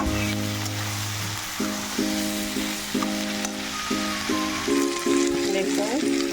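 Shrimp and taro sizzle steadily while frying in a hot pan, with occasional stirring scrapes and a spoken voice heard intermittently over the continuous frying.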